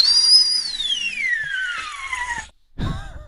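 A single long descending whistle, high and sliding steadily downward for over two seconds, followed by a brief pause and a short burst of rough noise.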